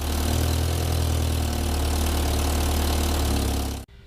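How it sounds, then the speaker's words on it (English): A 1985 BMW 318i E30 idles with a significant exhaust leak where the manifold meets the downpipe, a steady close rumble with a ticking, uneven edge that cuts off abruptly near the end. "I have a pretty significant exhaust leak where the manifold meets the downpipe."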